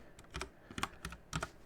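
Quick typing on a computer keyboard, a handful of crisp keystrokes in short irregular bursts, close and quiet with no talk.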